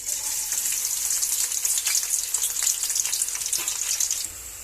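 Onion pieces sizzle in hot oil in a pan for spicy mutton keema fry, a steady bright hiss speckled with small crackles and pops throughout, close and fairly loud, with no talking.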